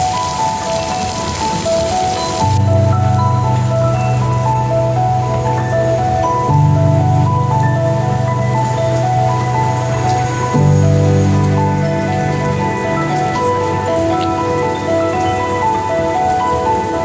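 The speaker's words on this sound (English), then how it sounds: "rain swept suddenly across the rooftops," Steady rain drums on city rooftops and stone as a continuous dense hiss, heard together with sustained tones that shift every few seconds.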